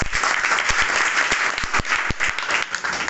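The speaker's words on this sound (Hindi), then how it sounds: "इन लोगों के लिए एक बार ताली होना चाहिए" Audience members applaud at a seminar on jobs, personal talent and network marketing, with a short burst of steady crowd clapping and a few sharper claps standing out.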